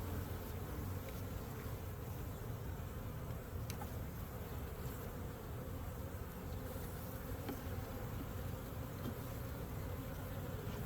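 Honey bees humming steadily around an open hive during an inspection of a honey super, a dense continuous buzz close by, with a few louder passes of individual bees near the listener.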